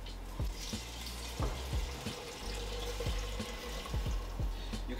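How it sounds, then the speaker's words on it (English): Water poured into an Instant Pot of lentils for dal, a running splashing stream with a few brief knocks and drips, close and steady over about five seconds. "We're adding about 4 cups of water."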